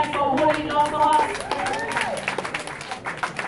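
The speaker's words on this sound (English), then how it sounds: "we have to give applause to mommy and daddy for holding on for us" Mourners at a burial service applauding for a deceased mother and father, a short burst of crowd clapping with voices rising over it before it thins out.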